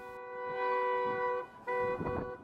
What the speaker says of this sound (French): Il klaxonne pour avertir ses voisins.